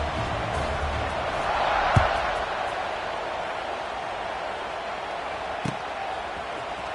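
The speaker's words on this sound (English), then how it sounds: "this crowd is buzzing after that last score." A large football stadium crowd keeps up a broad, steady roar after a score, distant and continuous, with a couple of dull thumps rising briefly above it.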